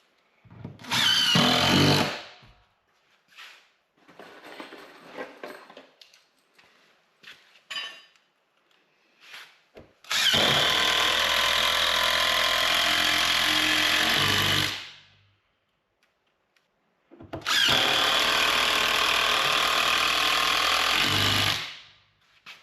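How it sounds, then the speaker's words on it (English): A power drill drives 4-inch screws through plywood and a 2x4 into a treated post during window framing, with two long loud sustained whirring runs, a brief earlier burst, and quieter handling noises between. "these are 4-inch screws. They're going through the plywood, through this 2x4, and into the treated post back there"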